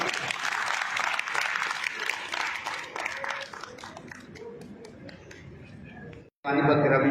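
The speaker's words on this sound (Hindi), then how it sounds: "तालियों की गड़गड़ाहट कम नहीं होनी चाहिए।" Audience applause at a minister's road foundation-stone ceremony, held while guests are honoured with turbans: dense, loud clapping that fades over a few seconds and then gives way to louder sound.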